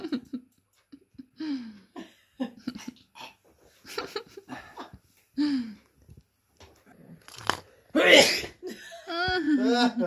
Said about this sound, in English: Sneezed on me.